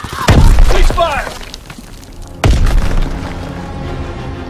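Two heavy grenade blasts in Call of Duty WW2 (Xbox One beta, domination match): a sharp, loud boom early on and a second one about two seconds later, each trailing into a rumbling decay, with voices in the background.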